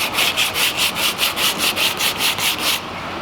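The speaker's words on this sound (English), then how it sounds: "when you're sanding them, you do an X pattern" Rhythmic rasping strokes of sandpaper scrubbing hard plastic in an X pattern, about three strokes per second, close up, ending abruptly, with no voices.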